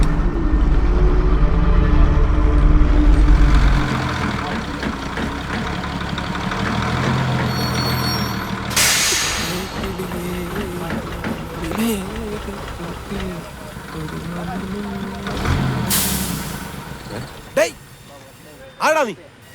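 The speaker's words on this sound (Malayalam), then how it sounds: "എനിക്ക് പോകാനുള്ള വണ്ടി വരുന്നുണ്ട്." A truck pulls up in a film scene: a low engine rumble and idle runs throughout, with two sharp broadband bursts like air-brake hisses. People speak over it.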